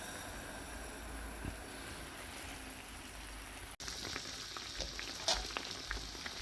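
Beefsteak fries over full fire in a covered pan, a quiet steady sizzle with a brief cut partway, then brighter crackles and small pops near the end; no one speaks.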